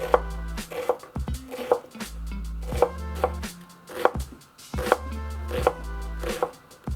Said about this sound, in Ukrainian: Цибульку нарізаєте, як звичайно, ви її нарізаєте для засмажки.